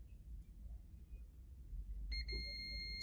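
A multimeter set to continuity gives a steady electronic beep that starts abruptly near the end as its probes touch an alternator stator winding, over a low background hum.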